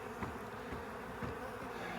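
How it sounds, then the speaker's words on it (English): Swarm of bees buzzing as they crowd back toward their caged queen, a dense, steady hum close by, with no voices. "You can see all of these bees that are trying to get back"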